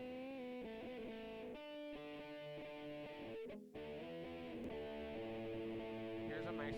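An electric guitar through a Mesa Boogie amp simulation in Reaper plays sustained chords and riffs with a thick, saturated distorted tone, continuous and loud, with a brief pause near the middle.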